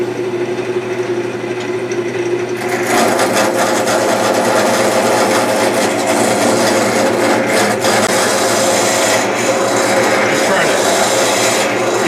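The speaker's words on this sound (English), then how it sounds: "I'm going to turn up the speed, and I'm going to go ahead and trim it down with this what we call roughing gouge" A wood lathe starts up and a roughing gouge trims a pen blank, quiet motor hum giving way after a few seconds to loud, continuous close scraping and rasping of the cut.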